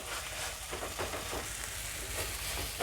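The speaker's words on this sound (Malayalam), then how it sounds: "ഒരു 2 മിനിറ്റ് ഒന്ന് ഇങ്ങനെ ഒന്ന് ഇളക്കുക" Egg curry masala frying and being stirred in a pan, a steady broadband sizzle with faint scraping strokes throughout, close and continuous with no talking.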